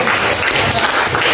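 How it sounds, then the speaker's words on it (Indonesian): Middle-school students clapping together in a classroom, a dense burst of close, steady applause lasting about a second. "Oke, beri aplaus."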